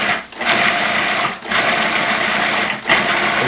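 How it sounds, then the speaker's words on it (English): Food processor pulsing fresh blueberries into a purée: three loud whirring bursts, each cut off by a brief pause, close and with no talk. "put them into a food processor, and we're just going to puree them and have a blueberry puree. So we're just going to pulse this a few times"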